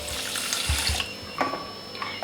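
About three-quarters of a cup of water pours into a pan for jalebi sugar syrup, a short, steady splashing rush up close with no talk.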